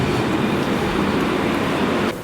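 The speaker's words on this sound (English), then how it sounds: "I did hear a tram arriving." An HTM tram rolls past in The Hague, a loud, continuous rumble of wheels on rails with a broad, steady roar that fades slightly at the end.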